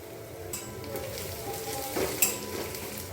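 Onions and ginger frying in a pan, a steady close sizzle with soft stirring scrapes and a brief utensil clink near the end, no voices.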